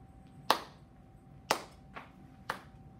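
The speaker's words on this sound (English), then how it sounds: "Can you go clap, one hand, other hand, both hands." Four crisp hand claps in a steady, evenly spaced rhythm, fairly faint against a quiet room with a low hum.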